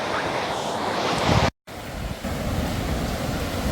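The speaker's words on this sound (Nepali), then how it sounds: "मजाको छाल छ आज।" Ocean surf rolls onto a sandy beach in a steady, loud wash of breaking waves, with wind buffeting the microphone and a brief dropout in the middle.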